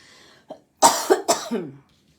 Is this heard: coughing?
yes